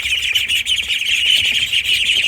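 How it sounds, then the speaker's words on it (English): Ducks calling inside a duck shed, a steady stream of high, chirpy peeps and calls running close and continuous without a break, no voices. "Guess we can look at some ducks here."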